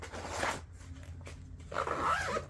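A zipper pulled open on a cross-stitch project bag, two rasping runs near and clear with a short pause between, no talk.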